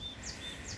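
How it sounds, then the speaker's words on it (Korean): Birds chirp on a mountain trail on Palyongsan in spring, giving a few short, high, thin calls over quiet outdoor background, fairly faint and brief. "새소리."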